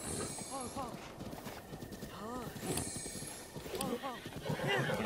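A horse galloping with rhythmic clip-clop hoofbeats and repeated neighs and whinnies while being ridden in The Legend of Zelda: Breath of the Wild, close and steady, with game sounds around it.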